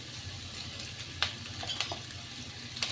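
Onion, green chillies, dried red chillies, cashews and ginger fry in a pan with a faint, continuous sizzle, broken by a few light spoon clicks and scrapes as they are stirred.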